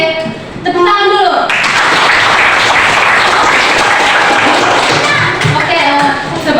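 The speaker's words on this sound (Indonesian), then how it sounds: "Tepuk tangan dulu." Schoolchildren in a junior high maths class clap their hands together, a loud, dense burst of many small hands sustained for several seconds, with children's voices chattering over and around the clapping.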